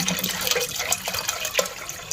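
Water pours steadily into a pressure cooker holding soaked chickpeas, a close continuous splashing gush lasting about two seconds, with no voices.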